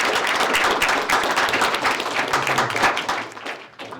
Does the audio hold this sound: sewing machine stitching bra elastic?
no